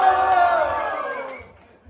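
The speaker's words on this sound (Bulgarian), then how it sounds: "Аз искам да чуя публиката отново." Club audience at a freestyle rap battle shouting and cheering loudly as a vote, a sustained crowd roar that slowly fades out.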